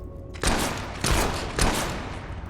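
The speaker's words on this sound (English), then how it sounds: "Does it reload after 3 shots?" Three loud gunshots from a gun in the video game Fable 3, spaced about half a second apart, each a sharp blast with a ringing tail.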